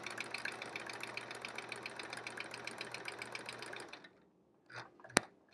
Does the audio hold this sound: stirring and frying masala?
no